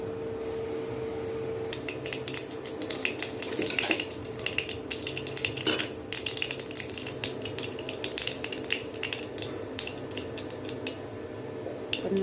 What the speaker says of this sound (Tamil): கடுகு நல்லா பொறிஞ்சிருச்சுங்க